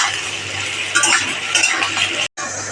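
Eggplant frying in hot oil in a pan for a dry eggplant and potato dish, a close sizzling hiss with the scrape and clink of a stirring spoon against the pan, steady throughout and cut by one brief gap near the end.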